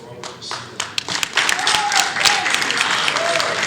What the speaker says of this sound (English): So a big hand of applause for Robert Garcia.